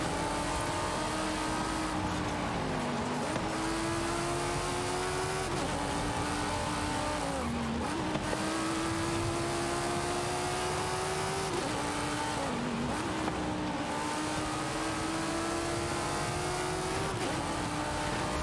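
A Lynk & Co 05 GT races in Forza Horizon 5, its engine droning at steady high revs and dipping at regular gear shifts, a long continuous run with no voices.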